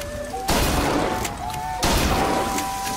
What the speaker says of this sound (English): Try to shoot turret once with a shotgun